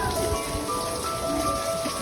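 Steady rain falls in foggy early morning at Ganga Talao lake in Mauritius, a dense, continuous close hiss of drops on surfaces with no talk.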